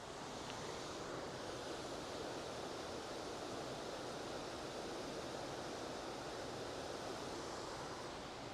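A waterfall being photographed outdoors rushes in a steady, dense broadband roar that holds unbroken and fairly loud throughout, with no voices over it.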